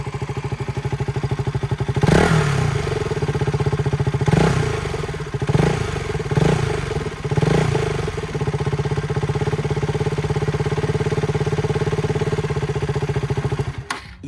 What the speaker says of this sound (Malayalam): ആ എൻജിൻ സൗണ്ടൊന്ന് നോക്കിയേ